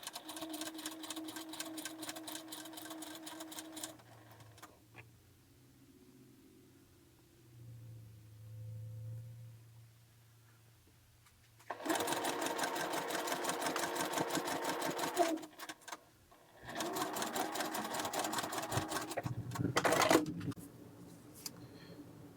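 A sewing machine stitches crumb-pieced quilt pieces for a Double Wedding Ring quilt in short runs of rapid stitching, with a quiet low hum during the pause and then longer, louder bursts close by.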